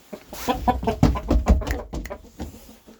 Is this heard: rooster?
yes